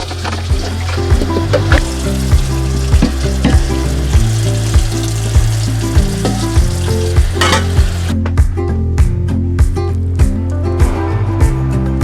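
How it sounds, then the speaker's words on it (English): Steady sizzling and crackling of green beans frying in bacon grease in a frying pan, with periodic stirring scrapes in a rhythmic pattern, ending with sharper pops and clatter. "I heated up a little bit of bacon grease in my frying pan"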